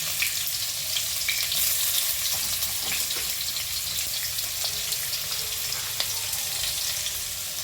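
Steady, continuous sizzling of chopped onions frying in hot oil for Kumbakonam kadappa, with faint occasional stirring clicks and no voices.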